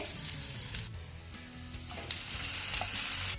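Cooked wheat-flour dough balls being sautéed with vegetables in a pan, giving a soft, steady sizzle with light stirring noises throughout and no talking.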